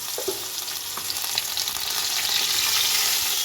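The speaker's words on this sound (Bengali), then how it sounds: "এটাতে আমি এবারে একদম নেড়ে নেড়ে ভালো মতো কষাবো, কষিয়ে একদম ভাজা ভাজা করব।" Spice paste sputters and crackles in hot oil, a steady close-up sizzle that swells slightly as it's stirred.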